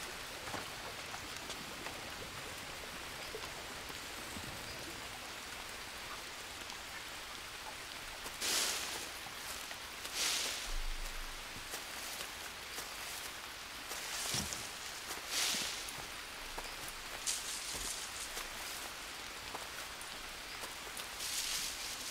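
Rain falls steadily in the jungle survival game Green Hell, a continuous soft hiss of rainfall with occasional brief rustles and knocks, and no voices present.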